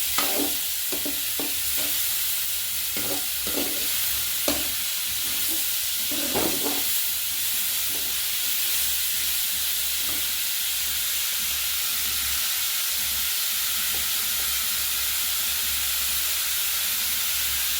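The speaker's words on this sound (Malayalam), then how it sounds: "നന്നായിട്ട് ഇളക്കി കൊടുക്കാം." Beef frying in a pan for a pachaka ularthal, stirred steadily with repeated scrapes and clacks over a constant loud sizzle and hiss, close up, no talking.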